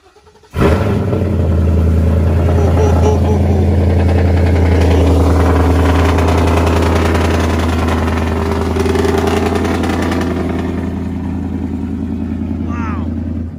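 Duramax diesel truck engine cranks and catches at once, then settles into a loud, steady rumbling idle close by, with a light rev near the end and people talking underneath.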